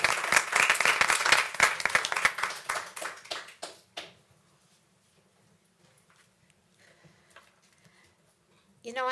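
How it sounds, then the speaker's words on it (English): An audience applauds a panel moderator, a burst of dense clapping filling the first four seconds and then fading into quiet room tone, with a brief sound at the very end. "Let's give her a nice round of applause."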